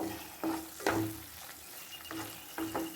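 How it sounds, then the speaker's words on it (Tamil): Chicken liver fry is stirred in a pan under a low sizzle, with several distinct spatula scrapes and knocks against the pan. No one talks. "போட்டு சும்மா ஒரு கிண்டி கிண்டி இறக்கிட வேண்டியது தான்"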